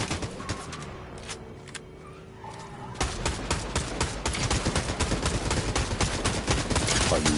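Rapid gunfire rattles in Fortnite, sparse shots at first, then a dense, loud stream of bursts that fills the second half with nearby shooting.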